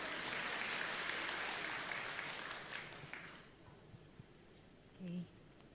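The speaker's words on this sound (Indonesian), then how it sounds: "Boleh tepuk tangan buat Ana." A church evening gathering in Bandung welcomes Ana, a speaker invited to the front, with a burst of audience clapping that fades out after a few seconds into near quiet, leaving a brief soft sound at the end.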